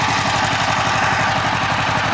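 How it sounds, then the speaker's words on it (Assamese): A tractor engine ploughs a field with a steady, rapid, rhythmic chugging close by, running alone without voices. "আপোনালোকে এতিয়া চাব পাৰিব কেনেকৈ হাল বায় ট্ৰেক্টৰেদি"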